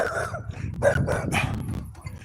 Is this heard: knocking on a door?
no